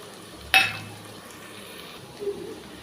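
Tomato with coriander leaves, chili powder and coriander powder frying for a fish curry, with one sharp clatter of a utensil against the pan, then a quiet sizzle and a faint later scrape.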